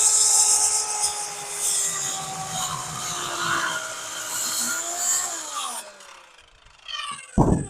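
A reciprocating saw cuts through patio wood, its loud buzzing whine rising and falling steadily for several seconds before stopping, followed by a brief knock as the piece comes free.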